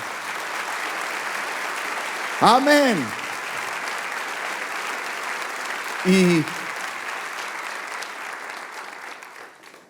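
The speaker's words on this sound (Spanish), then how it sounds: "¿Por qué no le damos un aplauso al Rey de Reyes?" A church congregation claps in a soft, distant, steady patter during a service, and a preacher's voice briefly rises above it twice.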